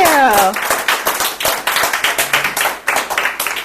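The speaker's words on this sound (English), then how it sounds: "give her a round of applause." Applause for a woman at a real estate agents' gathering: a small group claps in quick, steady bursts, loud and close, after a brief voice at the start.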